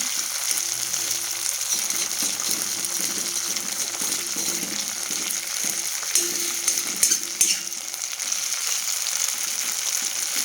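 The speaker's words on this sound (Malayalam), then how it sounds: "അങ്ങനെ നമ്മുടെ കോളിഫ്ലവർ ഫ്രൈ ആയി വരുന്നുണ്ട് ഇത് തിരിച്ച് മറിച്ചിട്ട് കൊടുക്കാം" Cauliflower pieces fry in a pan with a continuous close sizzle, and spatula turns add brief scrapes and clatters partway through, with no voices.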